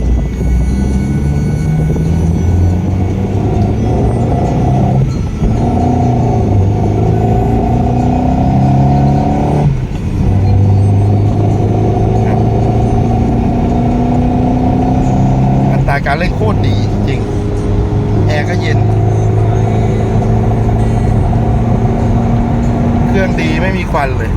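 A Honda City's D15B fuel-injected engine with a manual gearbox drones and revs up and down through gear changes, loud and close, with a throaty exhaust rumble and some clattering.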